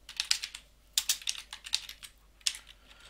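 Fingers patter across a computer keyboard while text and HTML are typed into a code editor, with quick uneven bursts of keystrokes and short pauses, close and clear with no voices.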